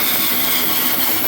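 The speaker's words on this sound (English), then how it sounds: "So let's cut that on the bandsaw." A bandsaw cuts a wooden Christmas-tree charcuterie board template, producing a loud, dense, steady whine and rasp that stays close and unbroken for the whole moment, with no talking.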